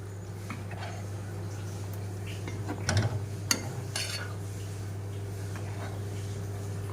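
Coconut-cashew paste is stirred into mutton gravy, with soft scraping and a few clinks of a spoon against the pot over a low steady hum, a brief louder clatter in the middle.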